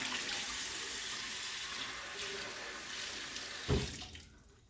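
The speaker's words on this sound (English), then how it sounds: "take 1 cup of warm water. And that's also hot from the tap" Warm tap water runs steadily into a kitchen sink or bowl, a continuous hissing splash that stops abruptly near the end with a brief final gush and trickle.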